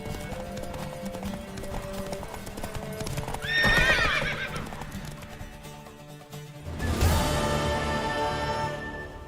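Horse hooves clip-clop steadily in The Witcher 3, with a horse neighing loudly mid-clip and again later over the hoofbeats and game sounds.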